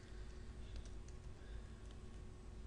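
Soft, faint clicking of typing on a computer keyboard, a quick steady patter of keystrokes under a low background hum.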